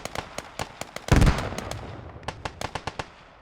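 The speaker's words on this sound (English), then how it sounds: "Big explosion happening as well." A truck is blown apart in a multiplayer combat video game, a loud sudden blast amid scattered sharp gunfire cracks that continue before and after.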